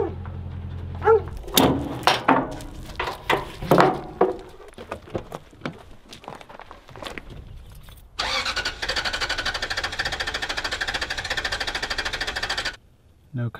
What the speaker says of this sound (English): The reason I'm in the way is the truck won't start.